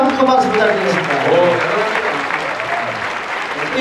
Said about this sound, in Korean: 우리 남부에게 다시 한번 큰 박수 부탁드리겠습니다